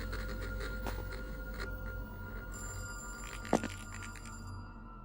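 A payphone rings in a street phone booth in a GTA city, with a steady electronic ringing tone repeating over low ambient game noise and one brief thump near the end.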